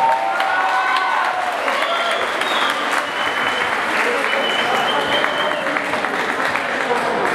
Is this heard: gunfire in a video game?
no